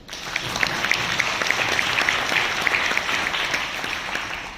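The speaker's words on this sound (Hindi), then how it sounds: "चलो जोरदार तालियां चाहिए।" An audience at a wellness seminar claps loudly and steadily throughout, a dense, sustained wash of many hands with no talk over it.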